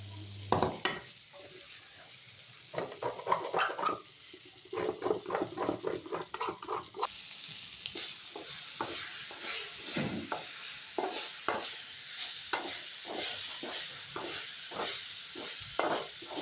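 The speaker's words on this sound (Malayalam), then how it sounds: "ചേർത്ത് കൊടുത്ത് നന്നായിട്ട് മിക്സ് ചെയ്യുക." Cooked prawns stirred into a thick masala in a pan for a prawn roast, with a steady run of scraping spoon strokes and clinks against the pan over a soft sizzle.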